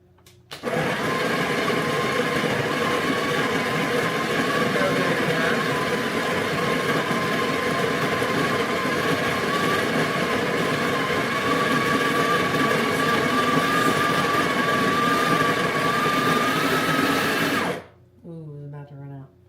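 A single-cup coffee brewer runs steadily for about seventeen seconds with a loud, even mechanical drone and a rising whine, then cuts off into a few faint clicks and gurgles.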